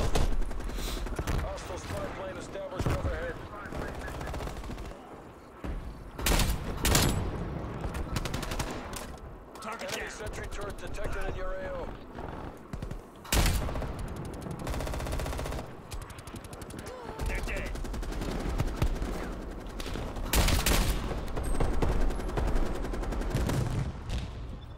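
Constant close gunfire in a Black Ops Cold War Team Deathmatch on Nuketown: rapid submachine-gun bursts mixed with heavier single shots and sharp cracks, busy and loud from start to finish.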